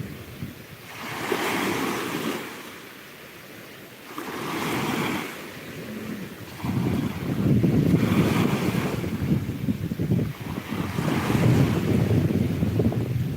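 Ocean waves and wind at Chuburna Beach in Yucatán, Mexico, surf washing in repeated swells that rise and fall every few seconds, with gusty wind buffeting the microphone and growing louder toward the end.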